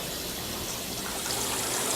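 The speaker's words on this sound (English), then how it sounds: "So here, I'm going to pour in the oil." Oil is poured into a tank of moving water that is pushed toward the center in a spill cleanup demonstration, heard as a faint, steady rushing wash of water.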